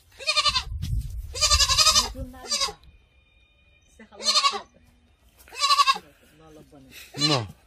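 A young goat newly separated from its mother cries at night on a rural African farm, giving several loud, close, wavering bleats with pauses between them.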